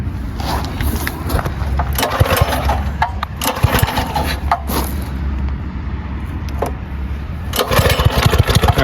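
Small 212 engine with a choke lever, started up and running, giving a steady low rumbling drone with irregular sputters and clanks throughout, fairly loud and close, with no speech.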